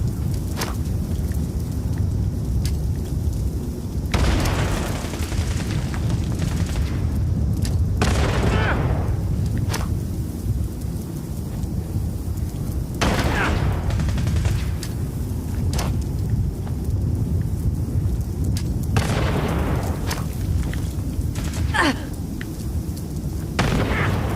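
A grenade goes off in a video game: heavy, booming blasts land amid a constant rumble of battlefield noise, with sharp crack-like bursts scattered across the stretch.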